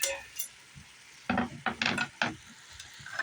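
Peppers and vegetables stirred in a pot on an outdoor smoker, a faint sizzle under a burst of scraping, clinking spoon strokes near the middle.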